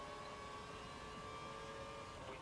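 Formula One car engine held at full revs during the Canadian Grand Prix in the racing game F1 2012, a steady sustained tonal whine that stays faint and even throughout with no talk.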